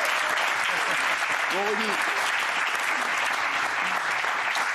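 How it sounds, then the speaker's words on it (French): Studio audience applauding basketball player Rudy Gobert on a French TV talk show set, a dense, steady wash of clapping for the whole stretch, with a host's voice speaking briefly over it. "Je voudrais qu'on remercie et qu'on applaudisse très fort Rudy Gobert."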